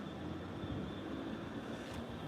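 Class 66 diesel locomotive 66721 in London Underground livery at Doncaster, a steady low rumble and hiss of the train running continuously at moderate distance with no voices.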